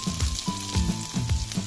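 Chikni greens frying in oil with onion, garlic, chopped green chilli, potato and brinjal, a close sizzle with rhythmic stirring scrapes of a spatula in short repeated strokes.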